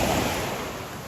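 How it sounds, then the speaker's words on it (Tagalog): Strong ocean waves surge and wash close by in a loud, steady roar of surf, with some wind noise and no voices. "malakas yung alon"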